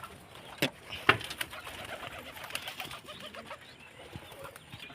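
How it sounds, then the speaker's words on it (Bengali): Domestic pigeons kept in a home loft coo softly in low, rolling calls, with a couple of sharp knocks and a brief wing flutter nearby. "আমার কবুতরগুলা ডিম দিতেছে"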